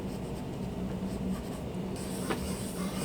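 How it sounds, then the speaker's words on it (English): Light pencil strokes scratch across paper while roughing in a crouching werewolf sketch, a steady soft scraping that runs throughout, close and quiet, with a brief sharper stroke near the end. "Let's start with a little bit lighter pencil maybe to get that roughed in."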